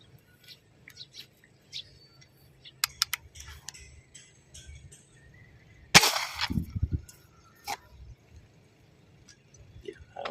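A single sharp underwater spear gun shot while spearfishing, followed by bubbling and sloshing, amid faint clicks and crackles of water.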